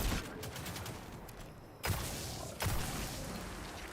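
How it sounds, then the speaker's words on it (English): Rocket launcher shots and explosions in the shooter game Destiny 2, with dense continuous gunfire and two sharp loud blasts standing out near the end. "We're just launching rockets."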